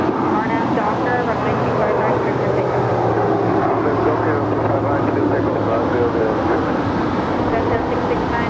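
Airliner pushing back at LAX airport, a continuous broad engine rumble and whine heard at a distance, steady throughout with no pauses.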